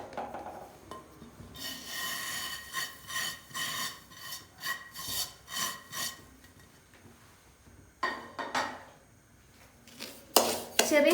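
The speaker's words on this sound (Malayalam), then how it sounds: "ഇതിന് ചെറുതായിട്ട് നമുക്ക് വറുത്തെടുക്കണം." Semolina dry roasts in a pan for milk upma as a spatula scrapes back and forth in rhythmic, rasping strokes, close and fairly loud, with pauses and a few sharper metallic scrapes near the end.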